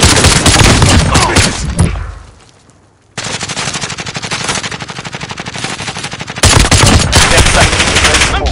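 Sustained machine gun bursts from a Call of Duty Modern Warfare match, loud and rapid, breaking off briefly into a near-silent gap before another long burst and a final heavy stretch of firing.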